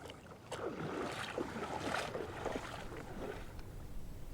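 A small boat is paddled a short way along a tidal river bank, with soft rhythmic strokes and splashes of water over a gentle outdoor background.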